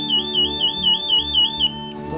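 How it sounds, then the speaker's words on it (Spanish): A CO2 gas alarm sounds inside a mine, a warbling high electronic tone rising and falling in quick repeated sweeps over a steady low machinery hum, then breaking off near the end. "Es una alarma por CO2."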